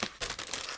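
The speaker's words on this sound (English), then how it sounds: "it's a resealable plastic bag, and I'm removing all the sprues out of it" Plastic model kit sprues being pulled from a resealable plastic bag, giving close, loud crinkling and rustling of plastic in several quick bursts with no talk.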